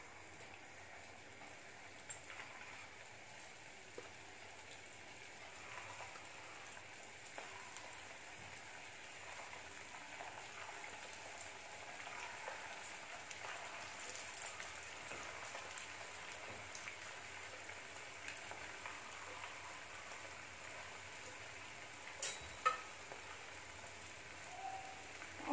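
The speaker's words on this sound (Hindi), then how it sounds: "इसे हम हाई फ्लेम पे ही हल्का ब्राउन होने तक तलेंगे" Sabudana balls deep frying in hot oil over high flame, a faint continuous crackling hiss like light rain, steady and fairly quiet throughout with a few sharper pops near the end.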